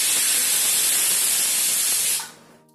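Steam hissing hard from a pressure cooker while milk pudding (kharvas) cooks, a loud continuous whistle-like rush that cuts off and fades after about two seconds.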